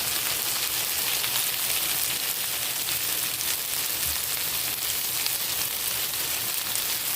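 Okra fries in a pan with salt, producing a steady, rain-like hiss of sizzling oil that runs evenly and fairly loud throughout, without speech.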